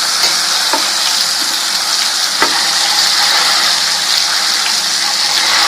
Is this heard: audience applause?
no